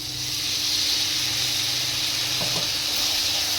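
Spiced water is poured into a pan of sizzling prawns and taro paste, giving a steady loud frying hiss throughout with a brief bubbling burst near the end.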